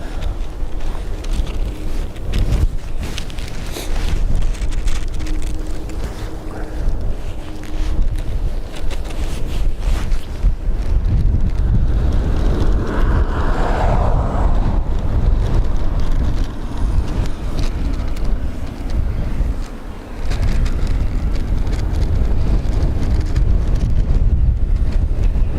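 Strong wind buffeting a microphone outdoors at Dublin Airport, a loud continuous rumbling roar with gusts throughout.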